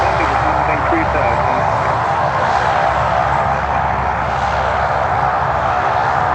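Aircraft engine droning steadily on a runway, a loud continuous roar held throughout, with a voice speaking over it.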